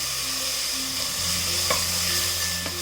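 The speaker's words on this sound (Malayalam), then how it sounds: "ഇതുപോലെ ഒന്ന് ഇളക്കി കൊടുത്ത ശേഷം ഇതിപ്പോൾ വഴണ്ട് വന്നിട്ടുണ്ട്." Crushed ginger, garlic and green chilli fry steadily in a pan, a loud continuous sizzle with soft stirring scrapes, close and alone without talk.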